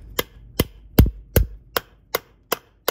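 A hammer taps bolts on a Husqvarna 51/55 chainsaw cylinder eight times in a steady rhythm, sharp close metal strikes with no talking.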